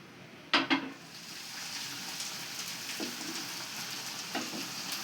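Egg korma gravy simmers with a soft sizzle in a pan, broken by a few sharp scrapes and knocks of a spoon stirring it, close and fairly quiet.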